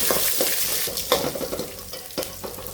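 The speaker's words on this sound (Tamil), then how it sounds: "ஒரு வெங்காயம் கட் பண்ணி வச்சுருக்க வெங்காயம் சேர்த்திக்கலாம்" Onion and curry leaves frying in a pan give a steady close sizzle, broken by repeated scraping stirs and clinks of the spoon.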